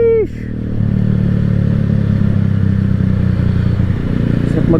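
A Keeway CR152 motorcycle rides along at noon, its engine droning steadily and loud close by after a brief opening chirp, with a faint shift in pitch near the end.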